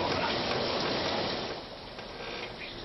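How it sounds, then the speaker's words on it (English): Hail pelting a home in Fairfield during a spring storm, a dense, steady rattling wash of icy impacts that stays loud throughout, easing slightly toward the end, with no voices. "Take a look at this amazing video of the hail that was coming down on a home in Fairfield"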